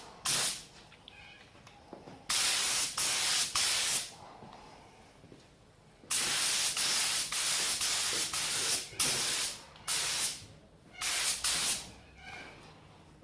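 Spray gun laying a very light first coat of paint on a Honda XL250 motorcycle part: several loud, steady hissing bursts of a few seconds each, separated by short pauses, close to the listener.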